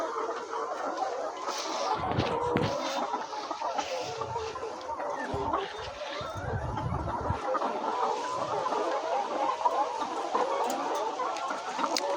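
A dense flock of layer hens on a poultry farm, recovering after a cholera outbreak, clucks and squawks continuously, with overlapping calls from many birds nearby and a few louder bursts.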